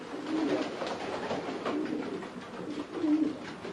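Pigeons coo repeatedly in a racing pigeon loft, low soft cooing calls recurring every second or so at moderate level against a steady background hum.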